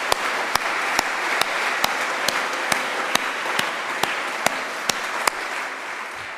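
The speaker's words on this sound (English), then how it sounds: "So I'd like just to have one more round of applause, if we may" A room of patrons and sponsors at a goldsmiths' craft and design awards ceremony applauds, a steady close wash of clapping broken by sharp, evenly spaced loud claps from one nearby pair of hands.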